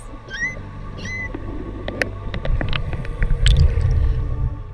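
Humpback whales vocalizing underwater, with rising whistle-like calls early and then clicks and creaks over a low, rumbling ocean background.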